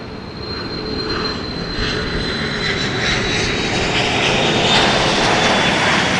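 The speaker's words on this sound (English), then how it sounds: "A Bombardier Challenger 350." A Bombardier Challenger 350 business jet at Dallas Love Field on a rainy morning gives a steady, loud engine roar that holds and swells slightly over several seconds, with a thin high whine running through it.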